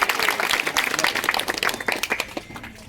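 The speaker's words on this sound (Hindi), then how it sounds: "बजाओ ताली।" Crowd at a gathering of protesting Hindu saints claps steadily, a dense patter of many hands lasting the whole stretch at moderate loudness, with no clear voice on top.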